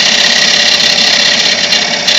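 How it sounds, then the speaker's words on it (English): A small skew chisel cuts a tenon on a spinning piece of wood on a lathe, giving a loud, steady, hissing scrape over the motor's hum with no pauses. "To set the angle on my tenons, I use my small skew."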